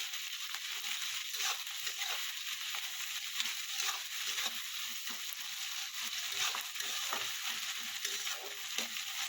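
Onions fry in a pan for Odia-style chicken masala, giving a steady, moderately quiet sizzle with faint stirring scrapes throughout, no voices.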